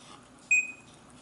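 A single short electronic beep from Sony VAIO laptop speakers, clear against a quiet background hum.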